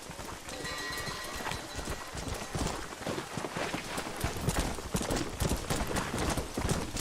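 Horse hooves pound rapidly in a galloping rhythm in the video game Red Dead Redemption on PS3, loud and close, mixed with rustling movement and game ambience.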